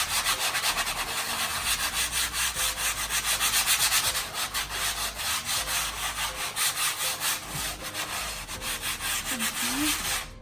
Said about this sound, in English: we're going to take our sanding block and we're going to prepare our board. You're going to want to lightly sand it